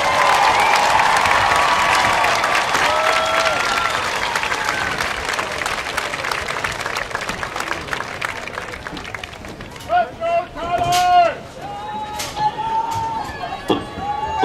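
Crowd applause at a marching band festival in Bethel Park, loud sustained clapping that fades midway, then an announcer's amplified voice speaks over the last of the claps.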